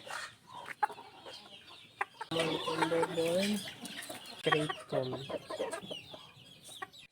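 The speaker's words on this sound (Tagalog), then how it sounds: "7 cockerels na lahat ang nakakulong ngayon sa fly pen." Seven young cockerels cluck in a fly pen, giving short, repeated clucks and calls. They are close and fairly loud, and by the middle the calls are more continuous and layered.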